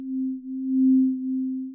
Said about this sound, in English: That's just a sine wave at the moment